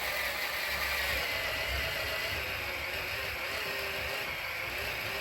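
A 3D printed tank track mechanism grinds steadily as it drives into a fridge, a dense, continuous mechanical whir and ratcheting rattle at an even, close level throughout.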